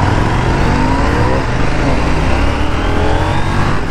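KTM 1390 Super Duke R motorcycle accelerating hard in second gear, front wheel lifting; a loud, steady engine roar rising in pitch throughout, close and continuous with no talk.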